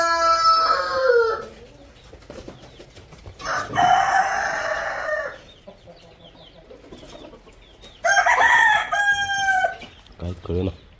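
Farmyard chickens and a rooster on a rural farm: loud, near crowing bursts repeated three times with soft clucking and scratching between them.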